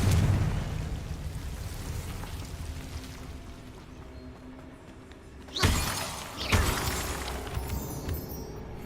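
A Confringo fire spell bursts in Hogwarts Legacy with two sharp crackling blasts a second apart, each rising from a low rumbling game soundscape.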